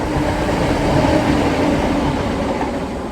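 A train rumbles steadily past close by near a canal on the Grand Union Canal, a loud continuous roar with rail clatter that holds level throughout, no voices.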